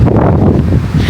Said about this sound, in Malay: Menikmati angin.